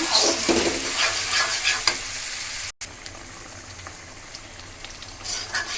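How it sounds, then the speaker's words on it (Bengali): Onion paste, green chili paste and ginger-garlic paste sautéing in a pan with nuts, making a loud close sizzle with stirring scrapes. A brief dropout breaks it midway, and the sizzle returns softer. "কাঁচামরিচ বাটা, আদা রসুন বাটা দিয়ে ভালো করে কষিয়ে নেব।"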